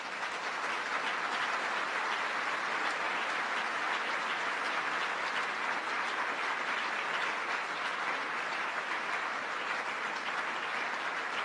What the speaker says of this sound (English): let's give them all three a round of applause